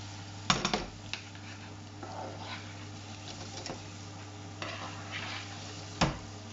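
Asparagus stems stirred in a pan, gentle sizzling under several sharp scraping and clattering stir strokes of utensil against pan, close and fairly quiet, no voices.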